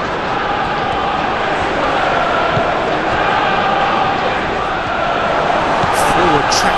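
A football stadium crowd at a Tottenham versus Newcastle United pre-season friendly gives a steady, loud roar of appreciation for a forward tracking back to tackle, holding throughout.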